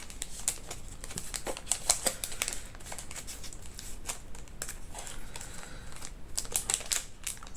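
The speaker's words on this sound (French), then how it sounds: "Il faut gratter avec un petit bâton." A small stick scratches at transfer stickers on paper, a run of close, dry, rapid scraping and ticking strokes in uneven bursts at low volume.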